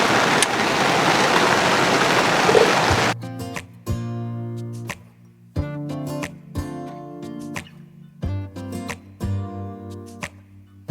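Heavy rain falls at a campsite, a dense roaring hiss for the first three seconds, followed by the sharp, close patter of drops striking a surface.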